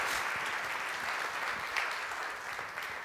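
A church congregation applauds during a Spanish-language sermon, with a fairly quiet but steady wash of many hands clapping, heard from a distance and mostly without talk.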